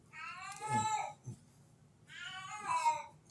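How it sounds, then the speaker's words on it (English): A house cat meows loudly twice, close by, each long drawn-out call stretching nearly half a second, separated by a short quiet pause with faint background sound between them. "you can hear the cat"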